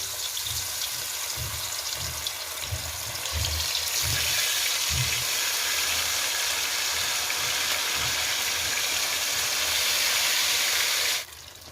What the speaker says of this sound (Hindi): ऑयल गरम हो चुका है, तो अब हम इसमें इन चापों को फ्राई करेंगे।